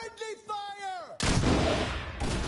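Loud gunfire in a video game breaks in suddenly and keeps booming on as a dense roar, right after a voice shouts with a falling pitch.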